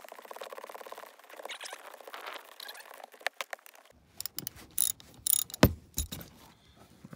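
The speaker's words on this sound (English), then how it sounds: "Get the seat off, T45, two screws." Torx T45 bolts are worked loose from a truck's car seat, with clicking ratchet and metallic tool sounds followed by sharper intermittent clanks and taps up close.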